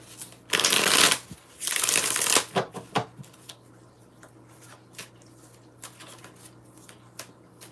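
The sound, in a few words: shuffling a deck of cards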